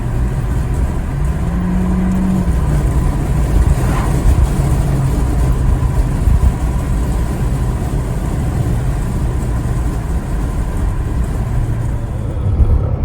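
A 2015 Seat Leon FR stage 1 car engine heard from inside, a steady loud drone with a brief rise in pitch early on, continuous throughout.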